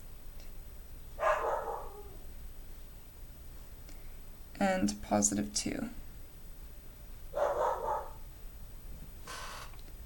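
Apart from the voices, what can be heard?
dog barking outside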